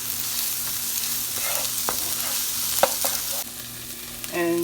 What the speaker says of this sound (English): Put the onions down a little bit.